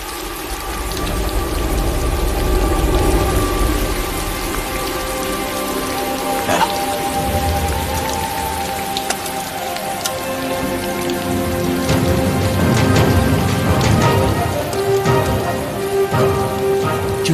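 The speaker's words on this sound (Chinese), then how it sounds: "真下雨。" Steady rain falls in a wartime film scene, a continuous patter of drops on surfaces with faint low rumbles and scattered clicks beneath, fairly loud and unbroken, with no one speaking.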